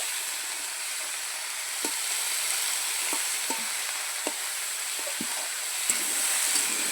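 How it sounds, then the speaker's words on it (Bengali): Bengali chorchori vegetables fry in ghee with chillies, giving a loud, continuous sizzle broken by several sharp clicks and scrapes from stirring nearby. "বন্ধুরা দেখুন, চচ্চড়িটা ওরকম ভাজতে দিয়েছি"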